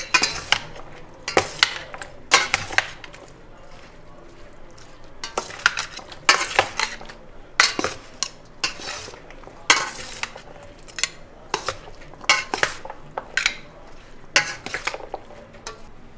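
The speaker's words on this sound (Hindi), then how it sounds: "अब इन सारी चीज़ों को आपस में मिक्स कर लेना है।" Chana chaat ingredients are mixed together in a bowl with a spoon, giving repeated close clinks and scrapes in an irregular rhythm, with no talking.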